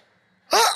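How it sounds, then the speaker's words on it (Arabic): A man in a televised show setting gives a single sharp, loud sneeze that bursts out after a near-silent pause and fills the end of the moment. "الرئيس عطس."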